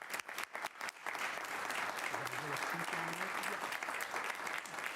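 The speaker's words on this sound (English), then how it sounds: "Everybody give him a round of applause." Audience applause at a town board meeting honouring a community member, a few scattered claps swelling within a second into steady, full clapping from the room, with some faint voices mixed underneath.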